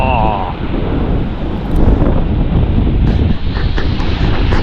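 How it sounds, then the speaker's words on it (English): Strong wind blows at the waterside during a fishing trip, roaring steadily and buffeting the microphone, with a brief voice at the start. "Oh, that's wind!"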